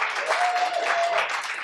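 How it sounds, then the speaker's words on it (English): An audience at a live interview event with Emmy-winning writer Lena Waithe claps together, a dense, even wash of applause filling the room for under two seconds. "Let's give a round of applause for Lena"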